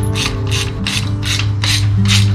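A ratchet tightens the latch on a chain link double swing gate with about six quick, rhythmic bursts of clicking, heard close up over a steady low hum.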